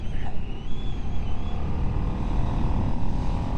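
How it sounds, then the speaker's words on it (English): Riding a Ducati Streetfighter V2S motorcycle, the engine's induction roar and rumble run continuously and close up, mixed with wind rush throughout. "how good is that induction noise? Listen to that!"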